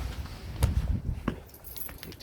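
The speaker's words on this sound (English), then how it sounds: "Need to find the right key." Metal keys jangle and clink as a bunch is handled while hunting for the right one, with a few sharp taps and rattles over a soft indoor background, close by and without talk.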